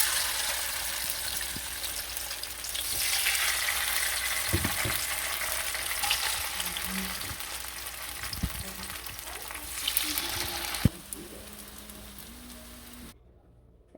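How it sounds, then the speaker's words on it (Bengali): Batter-coated pumpkin leaf fritters fry in hot oil with a steady, close crackling sizzle and occasional stirring clinks, then the sound cuts off near the end. "তেলের মধ্যে ছাড়া হয়ে গেছে, এবার দিয়ে দিব পাতাগুলো।"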